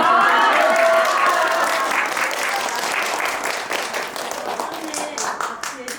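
An audience at a festival lecture breaks into applause, a dense wash of many hands clapping at full strength before easing and thinning into scattered claps.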